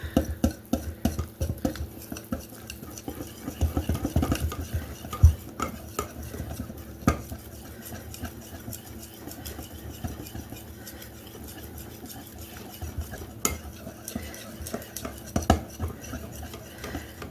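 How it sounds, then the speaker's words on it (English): A spoon works cinnamon roll dough with butter and egg by hand in a bowl, giving repeated scraping, knocking stirs at an uneven rhythm, close and fairly loud with no talk. "Want to mix and incorporate all those ingredients."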